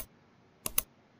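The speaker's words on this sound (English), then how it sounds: "Now hit the 3 keys at the same time." Two quick computer keyboard key clicks pressed close together, crisp and close, over a quiet room hum.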